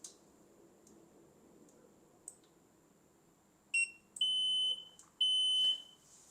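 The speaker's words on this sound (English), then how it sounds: "When you hear the sound twice, it means the welding parameters has been input into the machine." Two clear electronic beeps from an HDPE electrofusion welding machine confirming welding parameters are loaded, each held briefly, following a few faint short chirps over quiet background hum.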